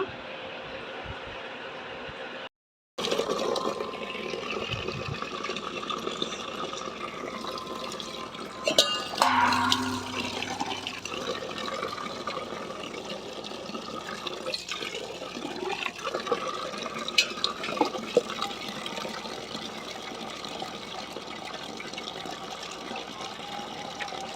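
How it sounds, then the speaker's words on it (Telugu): Fresh fenugreek leaves are swished and rinsed in water in a home kitchen, giving intermittent sloshing, splashing and soft clinks close by, with a person talking at times. "ఇప్పుడు నేను దీన్ని అయితే వాష్ చేసేసుకుంటాను చూసారా ఎంత ఫ్రెష్గా ఉందో మనకి మెంతి కూర"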